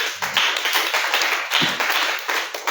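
A congregation claps in a steady, loud, even rhythm of hand claps that fills the whole moment, with no speech.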